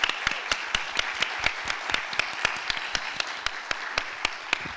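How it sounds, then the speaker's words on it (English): An audience applauds panel speakers after a fireside chat, a sustained round of many hands clapping at moderate loudness, with a few sharper nearby claps standing out through the steady wash of applause. "So let's give them another round of applause."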